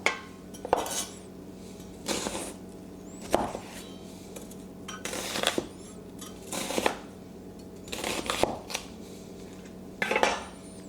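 A knife thuds on a chopping board in slow, separate rough-chopping bursts as an onion is cut, each stroke giving a short clack and scrape at close range, no voices.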